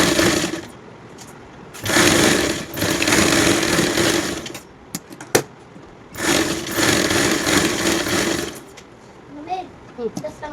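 Sewing machine stitching a baby coat, two loud bursts of fast rattling stitching separated by quieter pauses, with someone talking over and between the runs.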